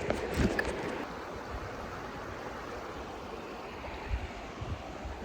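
River water flows in a steady, soft wash, faint and continuous, with a few light knocks and some wind rumble at the start and near the end.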